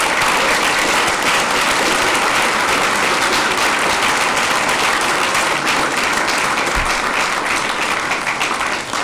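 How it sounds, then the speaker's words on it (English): Sustained audience applause at a school district board of education meeting honoring award nominees, dense steady clapping from a large room that continues evenly for about nine seconds. "So let's give them a round of applause as well."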